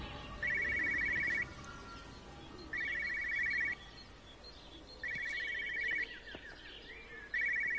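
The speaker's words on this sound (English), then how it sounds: "I can hear a phone ringing north of the front" A telephone rings in the video game Everybody's Gone To The Rapture, its trilling electronic bell repeating in four evenly spaced bursts over a faint ambient bed with light birdlike chirps.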